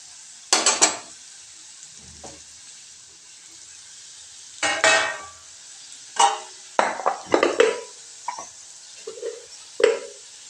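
Carrot sabzi with garam masala being stir-fried in a pan: a soft sizzle under repeated scraping and clinking strokes of a spatula against the metal, coming in separate bursts with short quiet gaps, close by.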